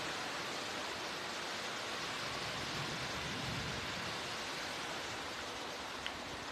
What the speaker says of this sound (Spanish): Ya nos llegó la lluvia.